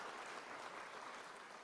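Legislators and guests applaud during New Jersey Governor Phil Murphy's budget address, a steady, faint and distant patter of many hands clapping with no voices over it.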